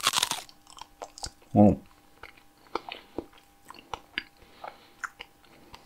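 Crunchy bites and chewing of a banana left edible after mold making for casting, close and fairly quiet, with irregular crisp clicks over several seconds and a brief exclamation from a voice.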